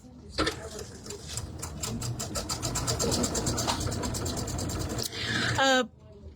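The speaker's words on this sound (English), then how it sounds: "we're just going to sew directly from corner to corner" A sewing machine sews a quilt square from corner to corner in one continuous, fairly close run of rapid stitching lasting several seconds, ending with a short whir.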